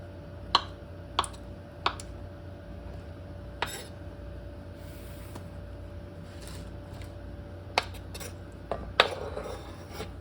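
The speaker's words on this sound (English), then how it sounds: "I'm going to cut up these little potatoes" A knife cuts up little potatoes on a board, giving a handful of sharp, isolated chops and taps spaced irregularly over a low, steady room hum, with no talking.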